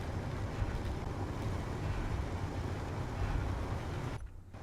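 Ship ejectors in the Space Engineers video game dump stone with a steady, hollow, tube-like rushing roar. The roar runs loud and continuous, then drops away sharply near the end.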